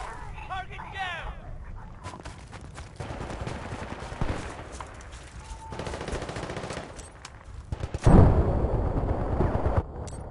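Gunfire crackles throughout a Battlefield: Bad Company 2 match, scattered shots building to a louder burst near the end, under ongoing talk between players.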